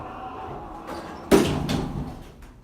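The doors of a 1990s Montgomery Vector hydraulic elevator at a JCPenney, running low on oil, rumble along before a sudden loud bang as they hit. A rough, fading scrape follows in the enclosed space.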